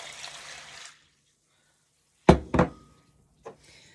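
Water is poured into a round steamer holding oats: a steady splashing rush for about a second, followed by silence and then a few close, hollow clunks.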